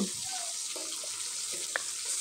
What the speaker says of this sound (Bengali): তেলটা যখন গরম হবে তখন এক এক করে সব মাছগুলো দিয়ে দিব